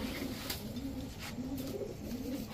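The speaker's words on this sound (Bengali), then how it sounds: "এটা একটা নর কবুতর" Male pigeon cooing, one of several fancy breeds such as silver grizzle, in a steady low murmuring coo that repeats continuously at moderate loudness through the whole stretch.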